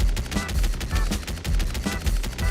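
Rapid repeating shots from the Ducky skin's attack in the Roblox game Tower Defense Simulator, loud and evenly rhythmic, firing in quick bursts with no voices.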